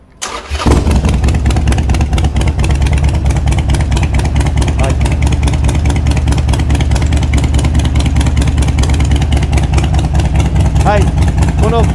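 A Harley-Davidson Roadster's V-twin engine cranks and fires, then settles into a loud, steady, close-up idle with a throbbing low pulse that runs without a break.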